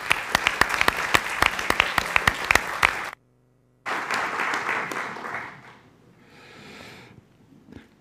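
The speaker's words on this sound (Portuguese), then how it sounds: "para quem peço uma salva de palmas" Audience applause at a poetry reading tribute event, a burst of dense clapping that cuts off abruptly, then resumes more softly and tapers away.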